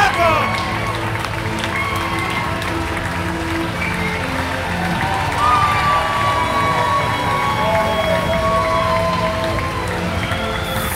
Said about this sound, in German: wow, für diesen tollen Applaus